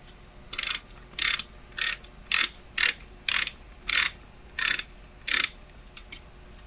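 A ratchet wrench tightens bolts on the cases of a 2009 Kawasaki ZX-10R engine, nine even bursts of rapid clicking in a steady rhythm with brief pauses between, close and clear.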